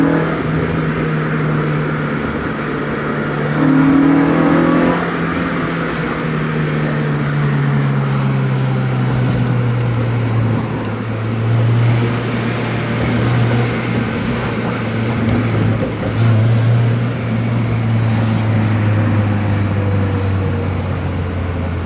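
A classic car's engine rumbles steadily for about twenty seconds at a 2020 drive-by car show, its low drone rising and easing in pitch as it passes close by, with no talk over it.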